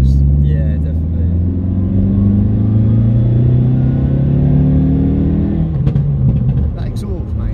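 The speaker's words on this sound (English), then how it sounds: "That exhaust is actually really loud." Loud exhaust drone from a modified, stage 2 Audi A1 1.4, heard from inside the cabin as a steady low rumble throughout, with people talking over it.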